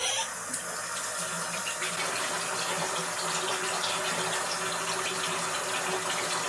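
Tap water runs steadily from a bathroom faucet while cleansing balm is washed off the face, a loud, close, continuous gushing splash with no voices over it.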